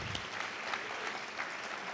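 Audience applause at a Portuguese and Lusophone-world lecture series panel discussion, a continuous crowd of hands clapping at moderate volume, steady and without talk.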